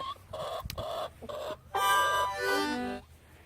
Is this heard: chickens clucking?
yes